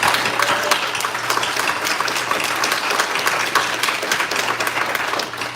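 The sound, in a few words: audience applause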